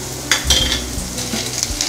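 Onions sauté in a pan for a quick Tamil kurma, giving a steady close sizzle broken by a few soft scrapes and knocks of a stirring spoon, with no talking.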